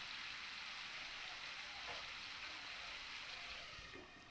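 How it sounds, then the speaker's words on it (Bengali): Potato and drumstick pieces fry lightly in a covered pan on low heat, a soft continuous sizzling hiss close by, steady throughout and easing slightly at the end. "এবার এইটাকে আমি ঢাকা দিয়ে হালকা একটু ভেজে নেব।"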